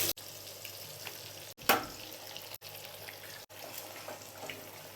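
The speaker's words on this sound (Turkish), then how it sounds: "Şu domates iyice kavrulması lazım." Chopped tomatoes fry for menemen in a pan at a breakfast restaurant, producing a close, steady sizzle broken by short gaps and a sharp clatter or stirring scrape near the start.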